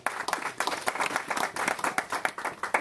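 An audience at a conference claps steadily in a dense, even patter of applause lasting a few seconds, with no voices above it.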